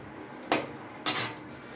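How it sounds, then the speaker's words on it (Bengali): Potatoes dropped into hot oil for frying, giving two short, loud bursts of hissing sizzle about half a second apart, each quickly fading into a quieter background. "এখন দেখো আলুটা ভেজে নিচ্ছি"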